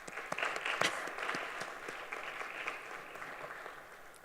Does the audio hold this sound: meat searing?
no